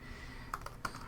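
A few quiet clicks of keys on a computer keyboard, sparse and close, over a soft steady background hum.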